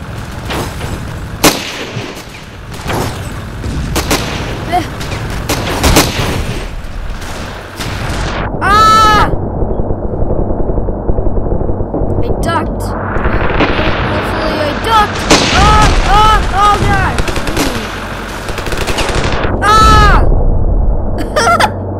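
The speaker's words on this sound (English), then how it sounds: "And there's an explosion." Battle noise from the Ravenfield shooter game at night, with repeated loud blasts and crackling gunfire scattered across a busy, chaotic stretch, plus sharp whistling bursts, with no voices.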